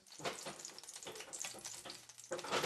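Eggs sizzle and crackle in a hot pan on a home stove, a steady close frying hiss with brief scraping and stirring bursts throughout, no talking.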